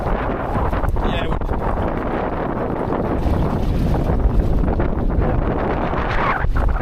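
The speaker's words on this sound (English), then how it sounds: "I feel like that wind's picked up a bit there." Strong wind of about 25 knots buffets a small gaff-rigged Welsford Penguin trailer sailer, a constant loud, rough rush with no break.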